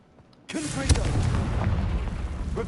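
Confringo blasting spell from a Hogwarts video game erupts in a sudden loud boom, followed by a sustained rumbling, crackling roar of debris that lingers at full strength.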